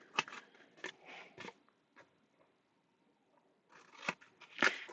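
Left-handed scissors snip craft paper for a mini album, giving a few quick, faint cuts in short clusters at the start and end with a quiet pause between, and no talking.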